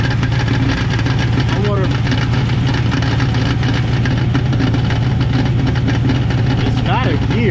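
A Chevrolet Camaro idles steadily with a loud, constant low drone while its transmission makes an odd noise, and someone talks briefly over it.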